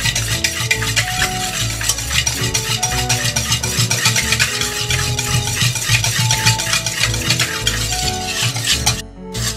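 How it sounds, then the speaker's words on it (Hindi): Yogurt (curd) being beaten for Rajasthani bajra rabri makes close, loud, rapid rhythmic stirring and scraping in a bowl, continuing without pause over steady tonal background music. "दही को हम बहुत अच्छी तरह बीट करेंगे।"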